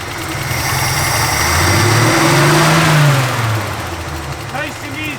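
A truck engine with a rebuilt carburetor revs up under throttle, swelling to a loud mid-pitched roar, then settling back toward idle, heard up close.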